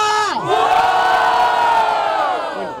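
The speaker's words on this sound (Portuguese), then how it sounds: "Barulho para as rimas do Moita Treta!" A loud crowd at a rap battle roars and cheers together, with whooping shouts rising over the noise, close and sustained for a few seconds.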